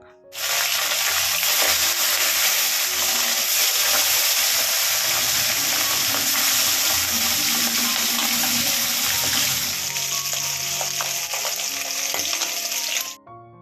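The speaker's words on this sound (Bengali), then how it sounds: "মাছ ভাজা এখন বসিয়ে দেবো" Fish frying in a pan in a home kitchen, a loud, steady broadband sizzle that holds for over twelve seconds with faint clinks underneath and no talking.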